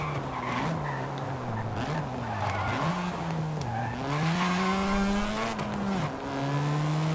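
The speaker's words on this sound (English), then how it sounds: "Oh, it spins out." Tires squeal and skid as a car spins out in Forza Horizon 5. The screech is loud and continuous over a revving engine whose pitch rises and falls, with no talking.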